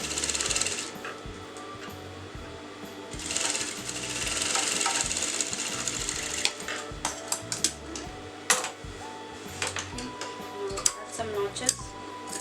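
A sewing machine stitches a kameez neckline in quick rhythmic bursts with brief stops, close and fairly loud, mixed with clicks and handling of fabric.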